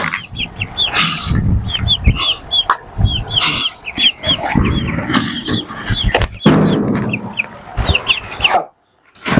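Chickens and chicks cluck and peep busily at close range in a Gilaki village farmyard, with many overlapping calls, scattered thumps and handling noise, ending in a brief pause.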